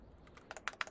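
Quick typing on a computer keyboard, a handful of crisp clicking keystrokes speeding up over a second, close and clear with no voice.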